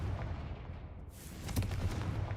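A Confringo spell blast in the Hogwarts Legacy video game, a sharp explosive burst midway followed by crackling booms over a rumbling low background, loud and close.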